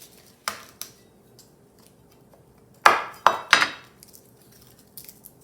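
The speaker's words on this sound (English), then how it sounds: "Now I'll chop up 1 clove of garlic." A knife chops a garlic clove on a cutting board: a few sharp, isolated knocks spaced apart, then a quicker cluster of three firm chops, close and clear in a quiet kitchen.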